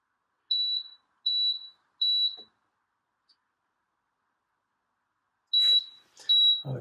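A low-temperature protection alarm on a Li Time 12V 100Ah Group 24 Bluetooth lithium battery beeps in sharp electronic tones, three evenly spaced beeps, a pause, then two more with some faint rustling.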